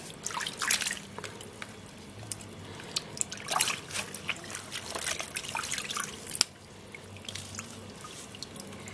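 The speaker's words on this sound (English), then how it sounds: "So I have to wash this and wash very well." An onion is washed under running tap water, with trickling and splashing that comes and goes as it is rubbed, then a sharp knock and a quieter stream near the end.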